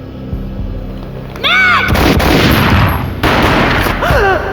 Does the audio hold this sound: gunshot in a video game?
yes